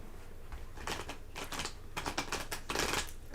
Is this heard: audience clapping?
no